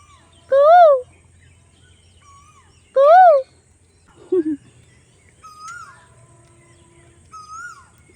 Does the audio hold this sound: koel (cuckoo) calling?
yes